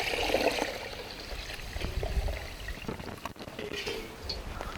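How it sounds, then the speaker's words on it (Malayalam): Water pouring over washed rice in a pot to soak it, a steady splashing trickle that runs for several seconds, close and moderately loud in a quiet village kitchen. "കുറച്ച് വെള്ളം ഒഴിച്ച് വയ്ക്കാം."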